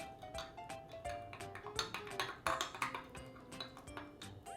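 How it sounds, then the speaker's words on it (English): A spoon stirs sugar into water in a bowl, giving quiet, rapid clinks and taps of metal against the bowl in an irregular rhythm, close and faint. "And 1 teaspoon of sugar, and just stir it until it dissolves."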